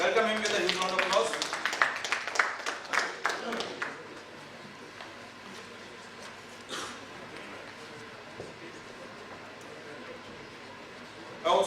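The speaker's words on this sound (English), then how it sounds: "Welcome him with a huge round of applause." A burst of audience clapping greets a vice chancellor taking the stage at an education summit. Brisk and fairly close for about four seconds, it then thins into a quiet room with a few scattered claps.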